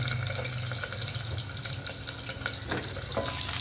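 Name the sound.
food frying in a pan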